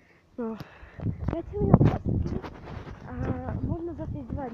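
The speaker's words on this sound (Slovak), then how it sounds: "proste počujete zvuk hada a je to len cvrčok" A cricket chirps steadily on a residential street, the insect's buzzing trill running underneath a person talking close by.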